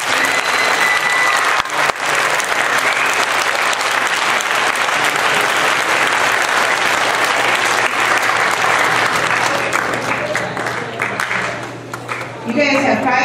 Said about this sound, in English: Let's give them a great hand again.